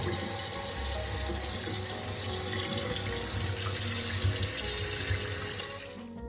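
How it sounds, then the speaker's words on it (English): Hot water runs steadily from a tap into a stoppered sink as it fills, a constant close rushing splash that fades slightly at the very end, with no talking. "So while the sink is filling up"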